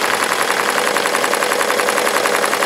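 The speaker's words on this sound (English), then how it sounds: "And we're embroidering on a denim cap," An embroidery machine stitches a denim cap at roughly 650 RPM, producing a fast, even mechanical chatter of rapid needle strikes that holds steady and close throughout.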